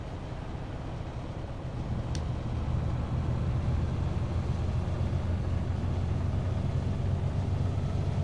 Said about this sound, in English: Yeah, I like the sound of the truck.